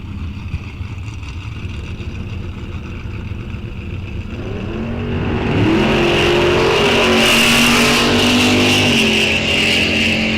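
A front-engine dragster and a Pontiac launch side by side in a bracket drag race at Rock Falls Raceway, with a steady engine drone that swells into a loud, sustained roar as the cars pull away.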